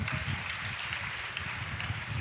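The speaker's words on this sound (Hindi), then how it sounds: "जरा तालियां बजा दें" Audience at a women's seminar clapping in a dense, steady wash of applause that holds evenly for a couple of seconds with no talk over it.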